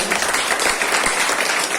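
An audience at a Renatus Nova product presentation in Bhandara claps steadily together, a dense, even wash of applause that holds at the same loudness throughout.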